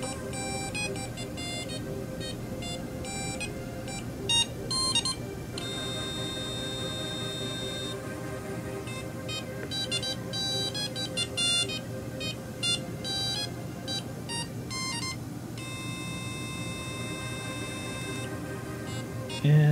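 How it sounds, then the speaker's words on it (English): Electronic synthesized tones from a microcontroller generating waveforms from MIDI over USB play continuously, shifting between buzzy, beeping waveforms and pitches in a steady stream of chiptune-like notes. "this is a program reading MIDI over USB generating a variety of waveforms"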